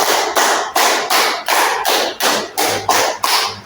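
A classroom of students claps out a five-beat pattern twice in a classroom lesson, crisp sharp claps in a steady repeated rhythm, loud and close with no talking over them.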